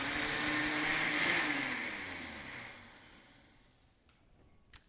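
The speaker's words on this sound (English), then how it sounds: "Now we're just going to blend again." Blender whirring as it blends homemade almond milk, a loud steady motor drone that gradually winds down and fades out, followed by a couple of faint clicks near the end.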